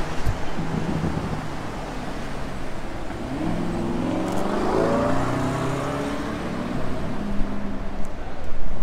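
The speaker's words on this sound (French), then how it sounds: "Alors un très beau Urus noir qui arrive." A black Lamborghini Urus rolls in, its engine note rising and swelling as it draws nearer, heard over steady outdoor wind and street noise.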